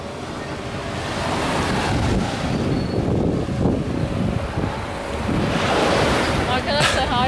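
Caribbean Sea waves wash continuously onto a shore in the Dominican Republic. The surf is loud and close, with wind buffeting the microphone and a swell that rises again near the end.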